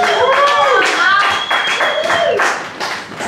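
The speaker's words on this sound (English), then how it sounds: "Can we have a big round of applause for the first actor this evening, Mr. Markel the Badbelly." Audience at a live comedy night in Cardiff clapping for a comedian taking the stage, a dense wash of hand claps mixed with voices, cheering and an announcer over the top.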